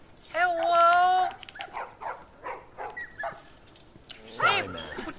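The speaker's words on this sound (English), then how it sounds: "Ooh, dogs!" Dogs in The Last of Us video game bark and whimper in short bursts, with a long howl-like whine at the start, heard under a person's talk.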